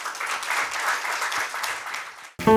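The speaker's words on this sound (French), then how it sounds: "je vous prie d'applaudir très fort pour accueillir M. Serge Ayaka." Audience applause at a youth program launch event in Benin, a dense, steady round of clapping from the crowd that cuts off abruptly just before the end, when a brief tonal sound takes over.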